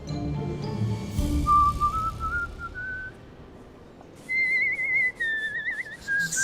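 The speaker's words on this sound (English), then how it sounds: "Steven and his whistling." A man whistles a thin, wavering bird-like tune indoors in short separate phrases, with soft rustling and handling noise underneath.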